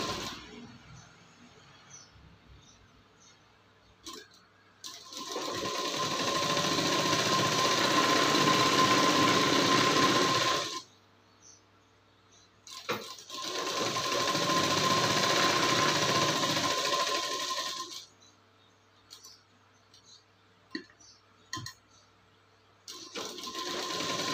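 A sewing machine stitches the neckline strip of a prince-cut blouse in two long, steady runs of rapid needle chatter, with quiet pauses of cloth handling and small clicks between them.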